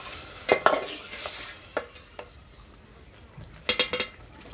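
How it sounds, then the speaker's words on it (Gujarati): A ladle stirring and mixing Kathiyawadi cauliflower dhokli shaak in a pot, a few sharp metallic scrapes and knocks in short bursts over a faint background, no talk. "બધું મિક્સ હલાઈ નાખશું"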